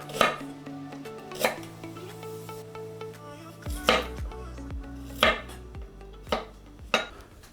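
A knife trims fresh ginger on a cutting board in a pork chowmein kitchen, giving about eight sharp, separate chops at an uneven pace over a low background hum.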